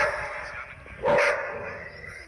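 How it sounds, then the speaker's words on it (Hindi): Dogs bark in a short burst during a viral TikTok music track, one loud bark rising over a sustained musical tone. "कुत्ते बहुत भौंक रहे।"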